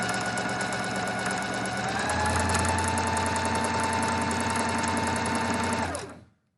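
A sewing machine stitches steadily forward, shifts briefly into reverse for a few back-stitches, then carries on forward at the same even hum before stopping, loud and close with no talking.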